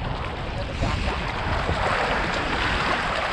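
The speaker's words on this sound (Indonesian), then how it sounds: "Kecil banget ombaknya." Small sea waves wash against a rocky shore with coral and oyster-covered rocks, a steady broadband wash with wind buffeting the microphone throughout.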